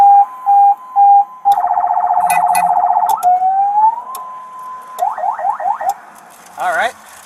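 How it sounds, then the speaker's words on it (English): A police-impersonator's car siren runs through alternating modes: steady beeping tones, a rapid yelp, a rising wail, then quick warbles, loud and near with brief voices in between. "it has a functioning siren to go with the lights,"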